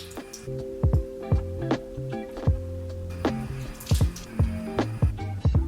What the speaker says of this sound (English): next, I'm gonna wash my face with the cleanser